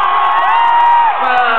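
A concert crowd of a live rock band's audience cheers and whoops loudly, with a sustained roar of voices that holds steady throughout.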